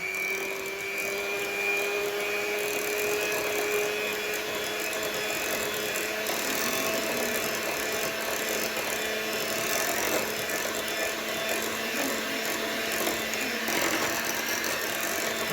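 Steady whine of an electric mixer whisking chocolate cream for Paris-Brest pastry, a continuous motor hum with a slightly shifting pitch that runs the whole time without a break, close and fairly loud, no voices.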